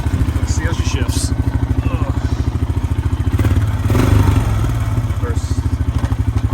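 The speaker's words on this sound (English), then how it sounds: "Got her warmed up. Let's see how she shifts." A Honda Foreman 450 ATV engine runs close up with a loud, rapid, even thumping idle and a brief rev with a clunk partway through as it shifts, while someone speaks over it.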